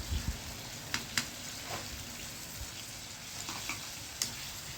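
Bottle gourd and potato curry fries quietly in a pan for a Gujarati lunch, a faint crackling sizzle broken by occasional soft ticks and utensil taps.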